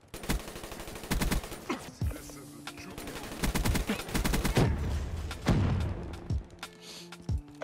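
Video game gunfire bursts in rapid automatic strings and single heavy shots, some loud and close, with short pauses between volleys and no talking.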